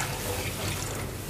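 Water pours into a pot, about four litres, in a steady, soft splashing stream heard alone for a brief moment.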